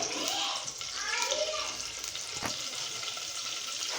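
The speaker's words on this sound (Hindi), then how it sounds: "इसमें करेंगे हम अपना मसाला फ्राई" Spice masala sizzles in hot ghee in a pan with a broad, steady frying hiss and a single sharp stir tap midway. A voice sounds briefly near the start.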